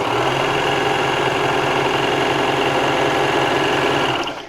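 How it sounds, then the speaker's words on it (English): A Baby Lock Victory overlocker sews thin muslin fabric in a loud, continuous close whirring hum that runs steadily for over four seconds before winding down at the end. "let's truly test this automatic tension by sewing through some different types of fabric"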